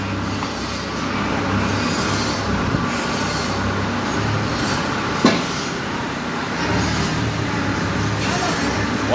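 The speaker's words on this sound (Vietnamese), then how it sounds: "bây giờ nổ máy nha." A Yanmar 3000 engine runs steadily with a loud, continuous mechanical drone and no distinct start burst, broken by one brief sharp click.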